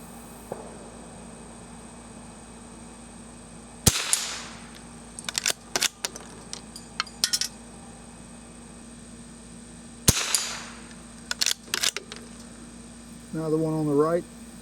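A vintage Marlin 39A rifle fires two sharp, loud shots several seconds apart at swinging targets outdoors. Each shot is followed by scattered clanks and rattles, and a steady hum runs throughout.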